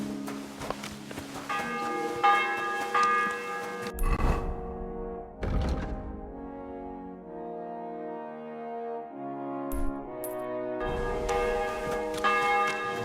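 Resonant church bells in the video game Kingdom Come: Deliverance II toll with long ringing tones, pausing briefly between strikes, while a few soft thuds and footsteps sound in between.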